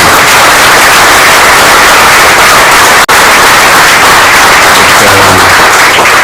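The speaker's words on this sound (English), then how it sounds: "let's give everybody who made this day possible another round of applause as well" Crowd applauding outdoors at a groundbreaking ceremony for a Cuyahoga River bank stabilization project, a loud, dense wash of clapping that nearly saturates the sound, briefly cut by a dropout midway and with a voice emerging near the end.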